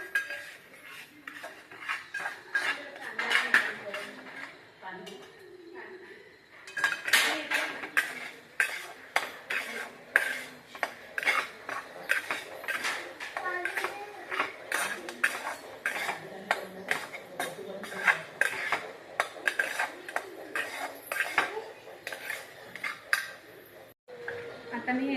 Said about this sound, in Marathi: आपण रवा टाकूया, जेणेकरून असं हलवत राहावं,